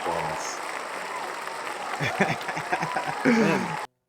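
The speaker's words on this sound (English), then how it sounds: "You guys got like the sound effects." A brief applause sound effect plays on a sports podcast, a steady wash of clapping with light chuckles and voices talking over it before it cuts off abruptly.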